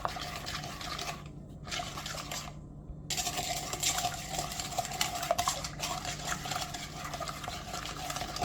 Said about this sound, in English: I'm going to mix that until the sugar granules are dissolved